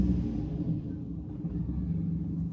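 A car engine idles with a steady low rumble and vibration, the car having just been started, running alone with no talk until a brief louder bump at the very end.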